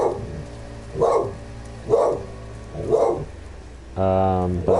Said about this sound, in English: Apologize for the dog